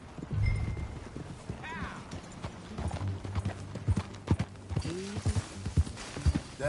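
Horse hooves clip-clop at a walking pace in Red Dead Redemption 2, close and rhythmic, with a brief whinny and characters talking over the steady plodding.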